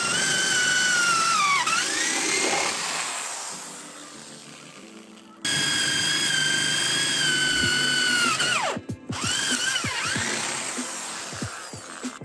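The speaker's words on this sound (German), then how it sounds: "Das heißt einfach nur einmal den Bohrer durchschieben." A power drill whines at high speed, bogging down as it bores through a rotted wooden railing, stopping, then spinning up again with a few short bursts near the end.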